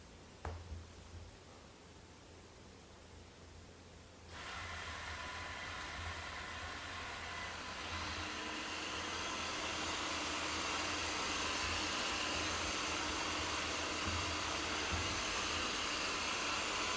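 An Ecovacs Deebot Ozmo 950 robot vacuum starts up and sucks up scattered plastic beads, its steady broadband whoosh rising in strength and then holding as a continuous drone, faint and alone.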